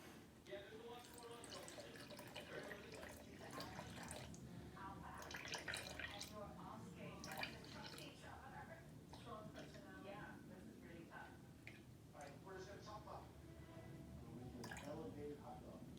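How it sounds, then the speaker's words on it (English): Lukewarm water, about 80 degrees, pours quietly into a sourdough starter for around sixteen seconds with small trickles and drips, while someone talks over it. "we are going to add 100 grams of 80-degree water"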